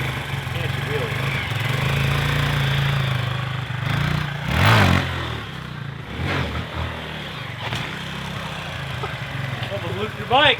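A Honda CRF250L dual-sport motorcycle revs hard for a wheelie, its engine droning up and down up close, while people talk over it.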